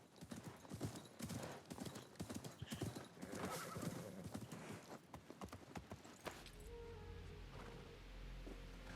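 Horse hooves clip-clop at a steady pace in the video game Assassin's Creed Mirage, loud and close with a whinny mixed in, then give way to a quieter ambient bed with a low rumble in the last few seconds.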